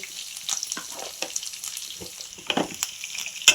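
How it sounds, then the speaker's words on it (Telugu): Onions and curry leaves cooking in oil for a carrot fry, heard as a soft, sparse sizzle with scattered stirring clicks and taps, quiet and close. "ఈ కరివేపాకు ఈ ఉల్లిపాయలు మనకు మగ్గిపోవాలండి ఆయిల్లో మనకు మగ్గిపోవాలండి"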